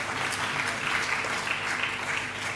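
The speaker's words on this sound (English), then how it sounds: "let's clap for me also" A crowd at an International Missing Children's Day event claps in steady, continuous applause at moderate distance, a dense even patter with no breaks.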